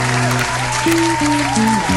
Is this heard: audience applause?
yes